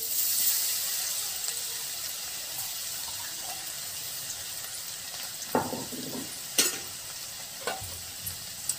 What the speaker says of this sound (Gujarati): આ તેલ આવી ગયું, આ નાખી થોડુંક જીરું. હવે આ લસણની પેસ્ટ નાખી દી.